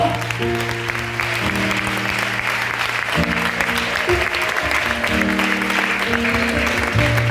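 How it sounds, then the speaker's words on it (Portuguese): Church congregation applauding steadily at a Portuguese-language testimony service, a broad wash of clapping under sustained organ or keyboard tones from the altar. "Você pode aplaudir o Senhor."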